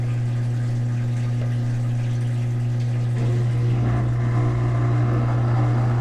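A washing machine draining water after its drain pump filter was cleared: a steady droning pump hum with rushing water that swells louder about halfway through, continuous and close.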